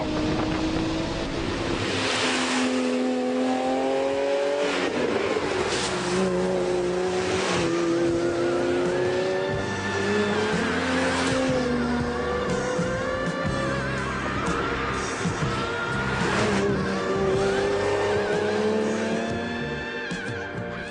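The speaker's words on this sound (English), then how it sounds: "when you fire up the flat 12," A Ferrari flat-12 engine revs up and down repeatedly, its rising and falling whine loud and continuous, sounding close by throughout.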